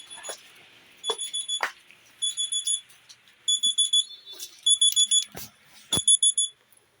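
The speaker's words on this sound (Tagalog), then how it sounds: "Pagka tumalog na yung alarm ng cellphone ko, yun na yung oras na mga gagawin ko." A cellphone alarm beeps in repeated rapid bursts of high electronic tones, grouped in short clusters with brief gaps, close and fairly loud over a quiet background with a few clicks.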